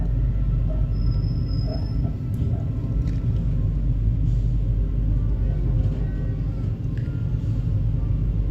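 KA Progo economy-class train pulling out of Kebumen station, a steady heavy low rumble with clattering wheels on rail and a brief high metallic squeal early on, close and continuous throughout.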